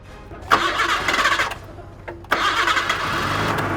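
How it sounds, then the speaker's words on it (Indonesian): Factory machine switched on and starting up, a motor catching with a sharp jolt, dropping off, then kicking in again into a steady running rumble, close and fairly loud. "Coba, saya nyalain mesinnya."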